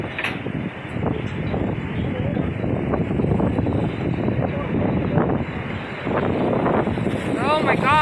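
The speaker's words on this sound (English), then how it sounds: "Oh my gosh, it's so windy." Strong wind gusts roar loudly and steadily through a windstorm, buffeting the microphone with broadband rushing noise throughout, while people talk excitedly over it.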